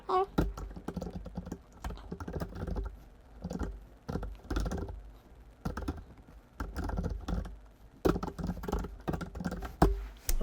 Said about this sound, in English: I think I need to type it in.